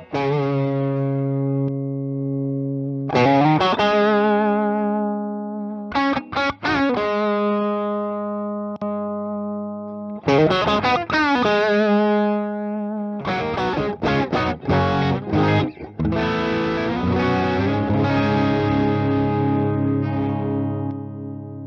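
Electric guitar through an i Scream overdrive pedal, adding an extra gain stage with some compression: loud sustained chords and single notes ringing out, then choppy strummed bursts and thick driven chords, played alone.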